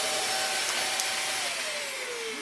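A Vax Mach Air vacuum cleaner runs during an airflow test, a steady close whine with a rising whistle tone that slowly shifts in pitch.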